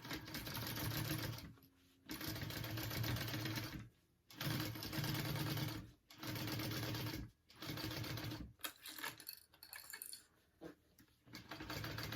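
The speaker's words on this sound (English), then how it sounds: "So I'm gonna top stitch along here." A sewing machine top stitches a sling backpack in several runs of rapid, even mechanical whirring, each separated by brief pauses, with the final stretch more uneven and broken up.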